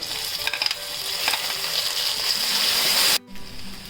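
Vegetables for upma fry in a pan with a close, bright sizzle as a utensil stirs and scrapes through them in a few sharp strokes, before the sound cuts off abruptly near the end.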